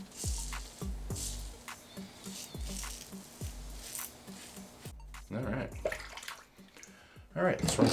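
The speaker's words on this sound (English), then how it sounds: "let's rinse that off" A Rockwell safety razor is rinsed under a running tap, with steady splashing water and the rhythmic knocking of the razor against a sink, followed by brief louder gushes near the end.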